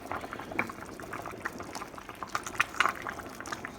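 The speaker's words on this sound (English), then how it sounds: "let's see if she's up to a boil. Oh yeah." Jambalaya liquid for a Louisiana Cajun jambalaya comes up to a boil in a pot, a steady low bubbling hiss with scattered pops and gurgles, close by and fairly quiet, with no talking.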